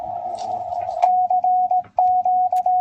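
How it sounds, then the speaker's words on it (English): Morse code keyed over a wartime radio at a World War 2 secret agent training camp, a steady tone broken into short and long beeps in an uneven rhythm, loud and close over faint background hum. "We have Andy here manning the Morse code, and we're trying our best to bounce this signal off the ionosphere back to Camp X in Whitby."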